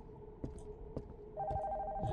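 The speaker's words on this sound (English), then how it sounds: "Just gonna go and answer the phone." A ringing telephone in a horror video game, its electronic bell sounding in repeated bursts that grow louder and fuller toward the end, with a few soft knocks in between.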